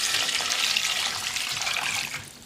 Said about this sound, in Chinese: 然后倒入适量的清水